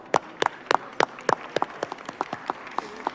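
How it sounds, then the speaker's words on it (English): Applause in the Texas Senate chamber: a small group claps in a sparse, distinct rhythm of sharp individual claps that thins out, heard fairly close with no speech. "Let's give them a well-rounded round of applause."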